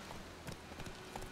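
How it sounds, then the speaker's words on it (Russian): Roach, the horse in The Witcher 3, trots in a quick series of faint hoof clip-clops heard from a little way off. "Давайте позовем нашу лошадку. Плотва."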